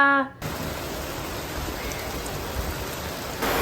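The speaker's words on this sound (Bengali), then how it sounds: "খুব জোরে বৃষ্টি" Heavy rain pours down in a loud, dense, continuous roar after a brief opening moment, steady throughout.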